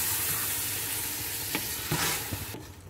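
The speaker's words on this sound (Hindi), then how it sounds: "अब ये दही में ही पकेगा, पानी बिल्कुल नहीं जाएगा।" Keema minced meat sizzles in a pan with yogurt and onion, a steady frying hiss broken by a few sharp scrapes of stirring before the sizzle quiets near the end.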